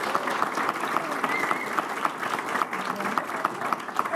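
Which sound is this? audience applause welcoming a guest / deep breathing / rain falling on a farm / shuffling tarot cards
audience applause welcoming a guest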